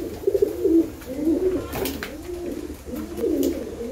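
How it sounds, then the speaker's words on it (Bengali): Pigeons coo repeatedly in low, throaty bursts while feeding close by, their calls rising and falling across the whole stretch with no talking. "দেখো কেমন কবুতর খাচ্ছে।"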